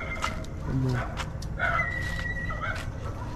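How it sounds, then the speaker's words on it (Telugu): Several dogs bark and yip nearby in short bursts, with voices talking over them. "పక్కన కుక్కలు అరుస్తాయి."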